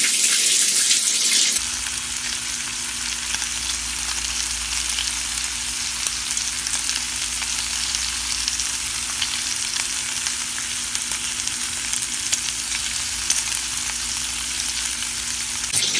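Bacon-wrapped shrimp frying in hot oil, a loud, dense, continuous sizzle and crackle heard close up, beginning with a brief brighter burst before settling into a steady fry for the rest of the clip.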